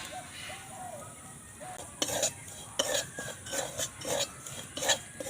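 Semolina stirred in a little white oil in a wok: after a quiet start, a series of close scraping, clinking strokes of a spoon against the pan, repeating roughly every half second over soft background hiss.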